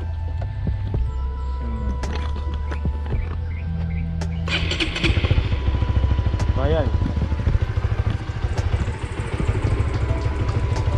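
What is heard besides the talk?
Honda Supra GTR 150 motorcycle engine starting and idling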